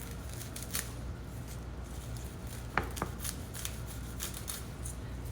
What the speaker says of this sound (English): And we'll cut that up because we are going to garnish our rice and our shrimp with some cilantro.